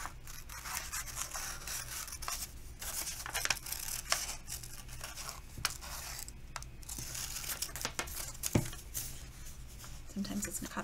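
Scissors snip and slice through paper while cutting out a paper crown, with steady crinkling and rustling throughout and a few sharper cuts standing out.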